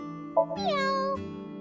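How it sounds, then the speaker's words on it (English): A meow sounds in AI: The Somnium Files nirvanA Initiative as a cat call aimed at a lucky cat statue, one drawn-out clear meow with a rising then falling pitch over a soft game background. "If you meow at a lucky cat statue, happiness will come your way."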